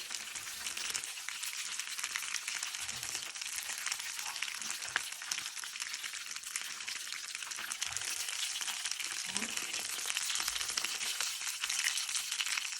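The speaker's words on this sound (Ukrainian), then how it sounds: "засмажуються котлетки. Кілька така рум'яненька" Turkey cutlets frying in a pan: a steady, crackling sizzle with small pops and occasional faint clinks, continuous and close.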